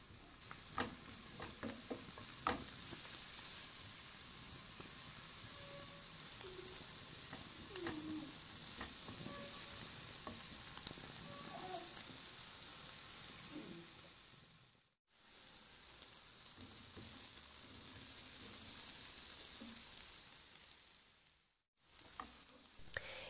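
Potatoes fry with herbs and garlic in a pan over medium heat, giving a continuous close sizzle that holds for more than twenty seconds, broken by two brief dropouts. No one speaks.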